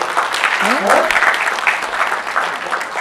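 Audience applause at an event about Indian doctors and healthcare, a dense steady wash of clapping across the whole clip with a voice faintly audible beneath it.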